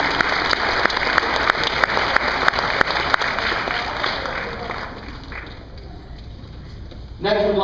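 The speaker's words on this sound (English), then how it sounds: "Give these guys another round of applause." A banquet crowd at a high school basketball event applauds steadily for several seconds before the clapping tapers off, then a speaker begins talking.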